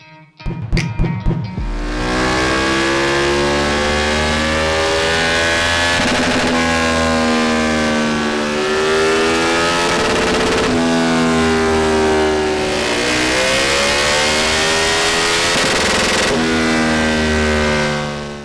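A KTM 1290 Super Duke R Euro 5 motorcycle revs loudly on a dyno, with a few sharp throttle blips at the start, then long sustained engine pulls that rise and fall in pitch several times.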